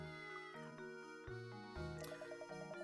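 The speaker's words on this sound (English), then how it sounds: "What's this cat doing here?" A cat meows in a video game, a drawn-out synthetic-sounding mew layered over steady tonal background music, fairly faint in the mix.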